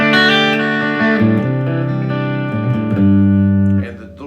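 Sustained electric guitar notes played through a bass amp with slight crunchy distortion, ringing tones sliding between pitches before fading out.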